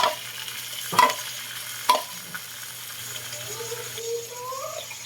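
Shrimp go into a hot pan and fry with a steady sizzle. A few sharp clatters and scrapes come as they land and get stirred, heard close with no talking.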